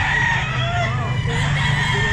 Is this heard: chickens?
yes